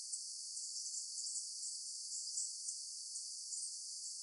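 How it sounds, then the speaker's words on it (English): A synthesized high-pitched bird sound, a steady band of bright chirping flutter held continuously at a low, even level with no pauses or talk. "So the final bird sound is the higher pitch bird sound"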